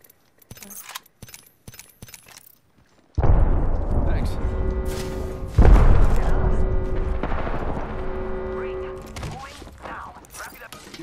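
A grenade blast and gunfire in a video game: sharp clicks, then a sudden loud explosion followed by a long rumbling roar, a second heavy boom, and sustained ringing noise that slowly fades, with a voice speaking.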